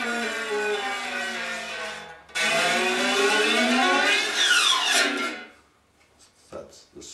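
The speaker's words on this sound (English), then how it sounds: "So that's the scraping of pick against strings" A guitar pick scrapes along the strings of a distorted electric guitar, making long, loud, whooshing sweeps that rise and fall, with a brief gap midway before the scraping fades to quiet.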